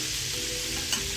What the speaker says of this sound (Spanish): Volvemos a colocar el salmón en la sartén y lo bañamos con esta mantequilla al ajillo.